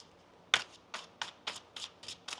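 A deck of tarot cards being shuffled up close, a sharp riffle followed by about seven rhythmic, crisp card flicks at roughly even intervals, with no talking.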